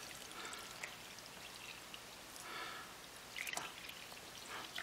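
Liquid pours into a yeast mixture for homemade rural bread kvass, a faint, steady trickling and splashing with a few louder drips, no voices.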